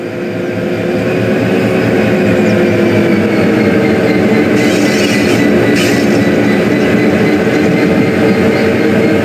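A diesel train in Train Sim World 6 runs steadily and loud, its engine drone and rail rumble continuous throughout with no speech.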